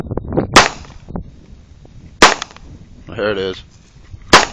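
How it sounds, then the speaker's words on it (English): Sharp outdoor gunshots at militia target practice, a few widely spaced cracks with a short exchange of speech between them. "Go ahead, shoot your eight."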